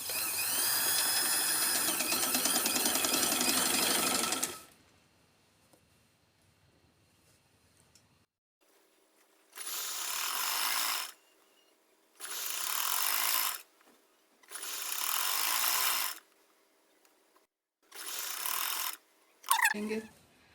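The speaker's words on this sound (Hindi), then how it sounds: "बस इसी निशान के ऊपर ऊपर सीधी सीधी सिलाई लाते जाएंगे और अपनी पिन्स को खोलते जाएंगे" A sewing machine stitches pleats on a kurti in several bursts, a long whirring run, then a quiet pause and four shorter runs of rapid mechanical stitching, with faint handling between them.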